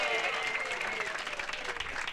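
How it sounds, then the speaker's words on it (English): Audience applause at a community legacy-weekend event in Hartford, a sustained wash of clapping at steady loudness for a couple of seconds with no gaps. "Let's just start with another round of applause"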